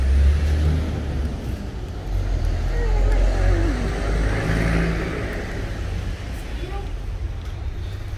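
A Fiat Punto T-Jet with a diffuser and blow-off valve rumbles loudly nearby while being parked in a garage, with a steady low engine drone that rises and settles, and people talking over it.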